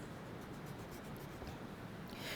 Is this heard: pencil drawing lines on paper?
yes